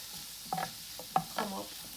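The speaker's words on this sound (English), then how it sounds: "we're just going to leave it on a medium flame and let the spices really cook through" Spices cook in a pan on a medium flame, a soft low sizzle with a few brief stirring scrapes and clicks, fairly quiet and close.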